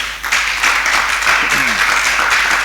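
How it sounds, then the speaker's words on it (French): A church congregation bursts into applause for God during a sermon, lively clapping and cheering rising quickly and holding strong and close, with voices mixed into the noise. "Applaudissons pour notre Dieu."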